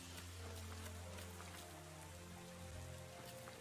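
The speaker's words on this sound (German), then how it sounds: "Ich meine, dass es halt regnet, macht es auch nicht besser, ne?" Soft, steady rainfall in the swamp area of Pokémon Sword's Isle of Armor, a faint continuous patter beneath low, sustained background music tones.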